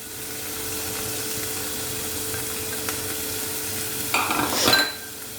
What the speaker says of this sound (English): now give all these nice mix and let all these cook well.